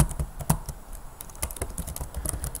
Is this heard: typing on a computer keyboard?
yes